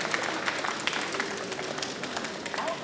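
Sustained applause from a Chinese crowd at a table tennis world championship quarter-final fills the arena, a dense steady wash of clapping with no pause throughout.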